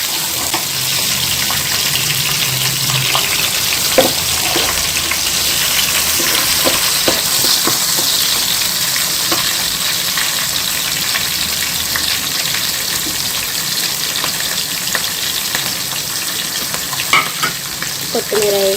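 Tomatoes and green chillies fry loudly in a pan for a prawn and colocasia curry, with a constant close sizzle and repeated scraping stirs all the way through, without speech.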